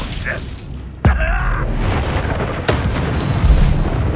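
A spell cast in Hogwarts Legacy on PS5 bursts out as a sharp, loud magical boom with a brief shimmering tail, followed by a second softer impact over a steady game ambience.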